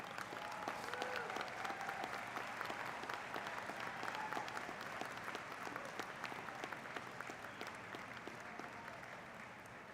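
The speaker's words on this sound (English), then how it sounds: "let's give them the round of applause that they richly deserve" A commencement crowd applauding graduates' families and friends, sustained dense clapping with some cheering, heard from within the audience and slowly tapering.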